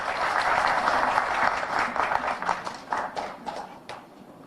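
Audience applause greeting the president of the Republic at a formal ceremony, a dense, steady wash of clapping from many hands that thins slightly toward the end, with no talk over it.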